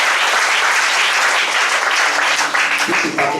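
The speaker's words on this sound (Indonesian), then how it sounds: "Tepuk tangan kedua kaprodi." Warm applause from an audience at a theological college gathering honouring two heads of study programs, a dense, steady wash of clapping that fades slightly near the end as a voice begins to come through.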